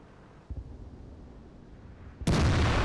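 A tank cannon in the World of Tanks video game, a Waffenträger, fires a single loud, broadband shot that starts abruptly and holds, following a softer thump and quiet engine rumble.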